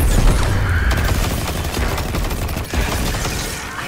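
Loud, dense blasting and crackling fire from the Destiny video game, a continuous roar of explosive bursts and gunfire-like chatter filling the whole moment as a vent gets blown open.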